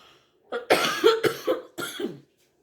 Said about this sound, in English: Pardon me if I'm coughing